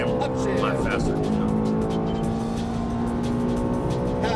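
Ferrari F430 F1 car on a track at Exotics Racing in Las Vegas, a loud close engine roar with a brief tire squeal, under a voice giving driving instructions.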